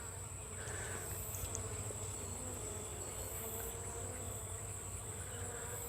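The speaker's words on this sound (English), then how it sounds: "There ain't a lot of bees left." Honey bees buzz steadily around a hive with few bees left, a continuous close insect drone with a low hum beneath and no talking.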